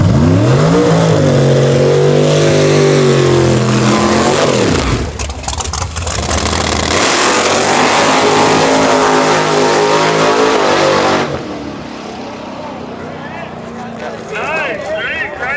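A procharged race truck engine revs hard and loud at a drag race, its pitch climbing and falling through several pulls before dropping away, with people talking in the background.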